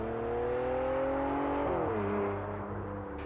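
A Continental GT engine pulls hard under acceleration, its steady rising drone climbing in pitch, dipping briefly at a gear change, then building again, loud and close with no talk.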